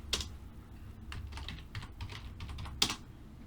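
Several keys pressed on a computer keyboard while running a Python program, including a Ctrl+Enter shortcut; a quick run of close, crisp clicks with a sharper keystroke near the end, no voices.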